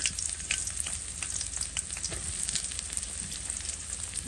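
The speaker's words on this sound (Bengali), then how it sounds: "এটা একটু ভাজা ভাজি হলো এখন একটু একটু পেঁয়াজ কুচি দিয়ে দিলাম" Banana flower with chopped onion fries in a pan, giving a steady, close sizzle with faint crackles throughout and no talking.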